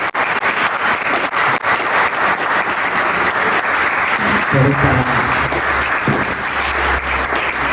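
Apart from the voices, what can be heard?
audience applause for Alicia Genovese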